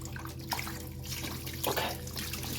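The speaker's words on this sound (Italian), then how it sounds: "lavateli prima in acqua corrente." Tomatoes for homemade passata are rinsed under a running kitchen tap, a steady close wash of water with splashy surges as the fruit is turned in the stream. No one speaks.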